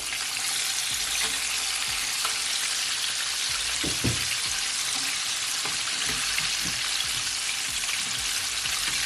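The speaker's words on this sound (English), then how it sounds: "So now I'm just gonna flip it over." Chicken pieces fry in hot oil with a steady, loud, dense sizzle throughout, broken by a few soft clunks and bubbling bursts as a piece is turned over.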